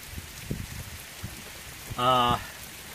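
Steady rain patters softly over a broad hiss on a hiking trail, with a few thumps and a brief tonal voice-like sound near the end.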